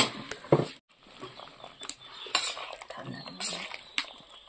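Khurma sweets are stirred in a pan with a metal spoon, making irregular scraping clinks and light rattles close by, with a brief pause near the start.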